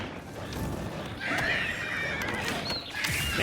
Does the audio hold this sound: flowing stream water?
no